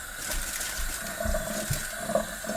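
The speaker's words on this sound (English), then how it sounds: "It's more like a sprinkle of water on it." Water sprinkled lightly over greens laid in aluminium foil, a soft near splashing and trickling that runs steadily with a few brief louder spatters, no voices.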